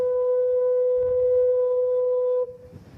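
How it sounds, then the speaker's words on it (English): Foghorn of the Lizard Lighthouse in Cornwall sounds a single steady, loud low blast for about two and a half seconds, then cuts off abruptly and leaves only faint background. "its foghorn sounds like this."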